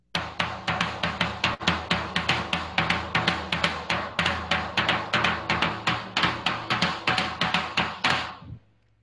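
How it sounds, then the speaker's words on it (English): A floor tom struck in a steady, fast rhythm, roughly forty deep booming hits in a row, loud and close, ending with a brief ring-out. "Can you play us your the floor tom beat?"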